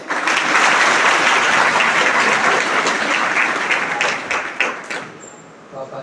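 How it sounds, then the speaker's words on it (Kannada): A seated audience at an Independence Day personality-development talk claps in a dense, sustained burst of applause, loud and close, that thins out and fades near the end. "ಮುಂದೆ ಕೂತವ್ರು ಅಷ್ಟೇ ಚಪ್ಪಾಳೆ ಹೊಡೆದ್ರಲ್ಲ"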